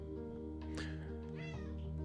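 A house cat meows twice, close and fairly clear, over a steady low background hum indoors.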